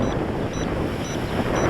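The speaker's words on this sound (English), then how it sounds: "We've got about a 10 to 15 miles per hour wind." Strong 10 to 15 mph wind buffets the microphone outdoors during an Eachine H8 Mini quadcopter flight, a steady, loud, rushing roar with slight swells and no talk.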